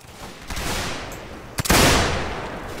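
Musket volley from line infantry in Mount and Blade Warband, a few scattered shots followed by a sharp massed crack that rolls into a long, loud echoing rumble.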